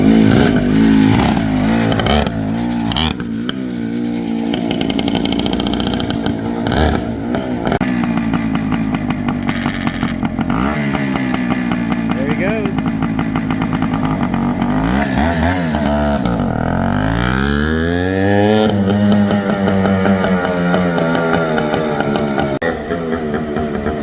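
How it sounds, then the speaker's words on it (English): A Suzuki TS400 Apache motorcycle being revived is ridden around a building with the clutch held to free it. The engine stays loud and close, rising and falling through repeated revs and rough accelerations with no break. "he's just riding around, holding the clutch, trying to get it to pop free."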